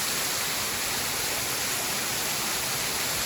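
Tall waterfall in the mountains of Vietnam's Central Highlands, a steady, dense roar of falling water filling the scene without pause or change, close and fairly loud.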